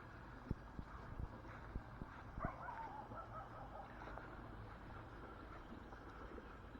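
Dogs barking in the distance across a park in Villa Ada, Rome, a few sharp yips and woofs scattered over steady outdoor background noise, with no talk.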